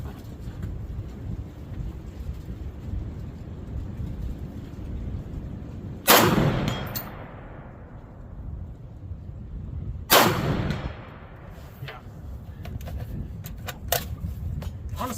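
Two .308 battle rifle shots, from an M1A or AR10, ring out on an outdoor range about four seconds apart, each a loud sharp blast with a lingering echoing tail over a steady background hiss.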